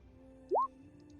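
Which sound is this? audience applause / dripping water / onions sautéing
dripping water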